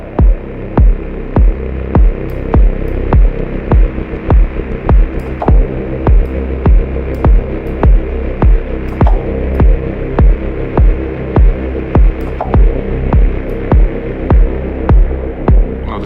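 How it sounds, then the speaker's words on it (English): Static, wind-like synth noise in a deep techno track: a steady hissing wash under a regular throbbing pulse of low thumps, loud and unbroken throughout with no voices. "This kind of static wind kind of thing."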